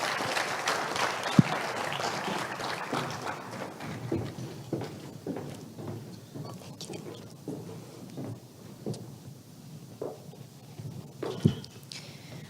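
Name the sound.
audience round of applause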